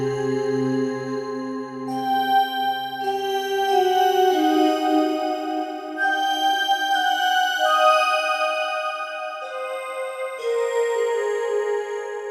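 Breath Bells synth patch with added attack, panning and reverb, recreating a Resident Evil 2 (1998) sound: shimmering bell-like tones with airy breath texture, sustained and layered, washing into a long reverb tail with no voices.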